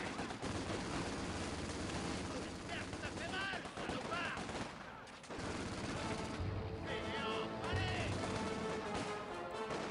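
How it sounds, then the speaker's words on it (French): Enemy infantry gunfire in the Company of Heroes 2 video game, dense bursts of rifle and machine-gun fire crackling almost without pause, loud and close, with game voices talking over the shooting. "L'infanterie ennemie tire."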